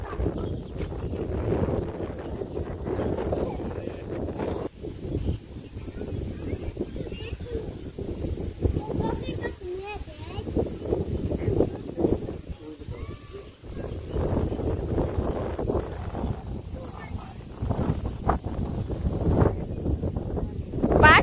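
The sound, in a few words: strong wind blowing into the microphone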